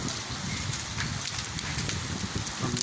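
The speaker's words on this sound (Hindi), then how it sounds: "इस कॉलोनी में ये ओले पड़ रहे हैं, बहुत तूफ़ानी बारिश है।" Heavy stormy rain with hail pours steadily over a residential colony, a dense continuous hiss and patter with wind noise and no break.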